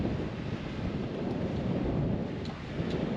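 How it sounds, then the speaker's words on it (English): Strong southerly wind in Western Australia's Midwest buffets the microphone outdoors, a loud continuous roaring rush with gusty swells and no voices. "It's a fair bit of wind."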